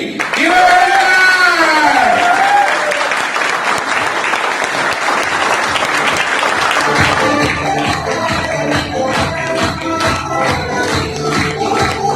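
A Modicare audience in Hisar applauds loudly as platinum director Surendra Kundu is called on stage. The clapping is close, dense and sustained for the whole stretch, with a voice over it at the start and rhythmic music joining later.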